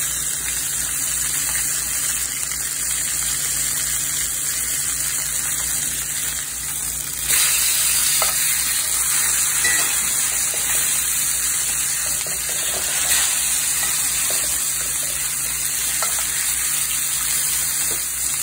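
Steaks sear in a hot cast iron pan, a loud, continuous hiss and crackle that holds steady throughout and briefly swells midway.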